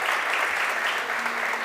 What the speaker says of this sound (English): Please welcome him with big applause.